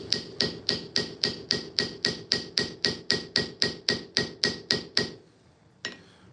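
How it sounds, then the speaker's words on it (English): A hammer strikes a brass pin repeatedly to mushroom it, about seventeen crisp, evenly spaced metallic blows in steady rhythm, close and clear, followed by a short pause and one final lighter tap. "when I rotate my hammer to work the edge, I'm actually connecting more on the scale than on the pin itself"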